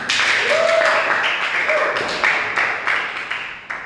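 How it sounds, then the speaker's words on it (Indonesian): Classmates in a school classroom break into applause, a dense, steady patter of hand claps filling the room for a few seconds, with a little chatter mixed in. "Oke, tepuk tangan semuanya."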